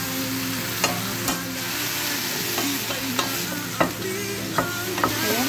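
Food frying in a pan is stirred with a utensil, giving a steady sizzle broken by several irregular scraping clicks and taps against the pan, close and alone.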